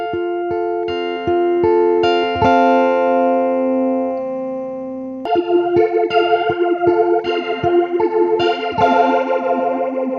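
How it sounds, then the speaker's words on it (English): Clean guitar notes and chords played with a swirling, sweeping modulation effect giving a shimmering, jet-like wash to each note. "flanger creates an effect similar to chorus, but with a very short delay and more intense variation."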